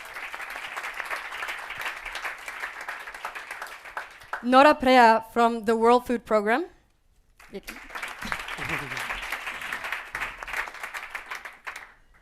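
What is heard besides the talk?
audience applause for panelists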